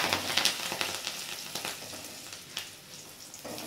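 Chili dropped into hot tempering oil with toasted five-spice seeds, frying with a continuous close sizzle and crackle punctuated by small pops.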